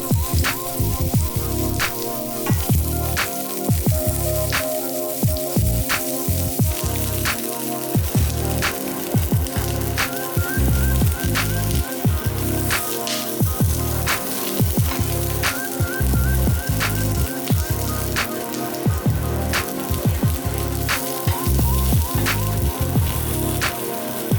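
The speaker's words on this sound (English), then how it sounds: "Frying the onions, green onions, and ginger to add to the flavor of the broth." Continuous sizzling and crackling of onions, green onions and ginger frying in hot oil for pho broth, with clattering utensil knocks and scrapes recurring throughout.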